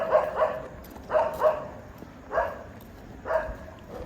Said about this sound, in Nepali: कुकुर पार्टीहरू